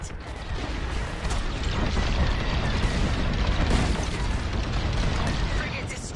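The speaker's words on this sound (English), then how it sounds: "Frigate destroyed!" Star Wars: Squadrons, a frigate destroyed in space combat: dense rumbling booms and bursts of explosion roll on continuously, loud and full, with a voice talking over the blasts.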